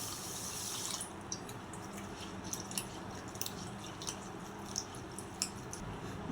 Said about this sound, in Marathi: दोन ग्लास बासमती राईस घेतलेला स्वच्छ धुवून घेऊ